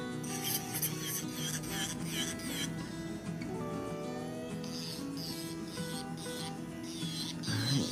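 Fingernails being filed during an ombre nail polish manicure, a steady close rasping and rubbing that runs throughout with short repeated strokes.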